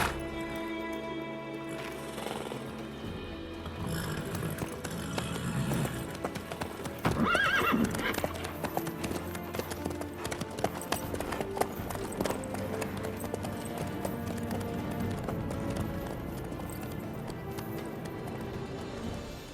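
A horse's hooves clip-clop steadily in The Witcher 3 on Xbox Series X, a close rhythmic trot with a whinny partway through, over game music and ambience.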